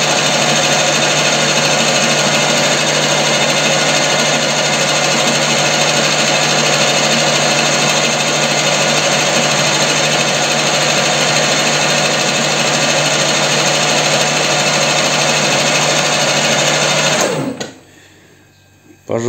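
A lathe with a broken parting tool cuts plastic and a piece of rubber hose, producing a steady, loud droning whine that holds unchanged for about seventeen seconds, then abruptly cuts out.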